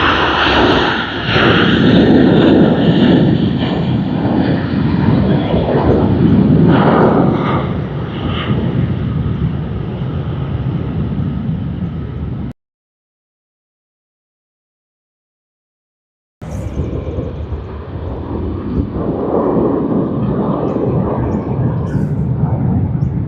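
An airliner departing Sydney Airport roars loudly and close, a heavy sustained rumble that drops out completely for a few seconds mid-way before the thundering engine noise resumes.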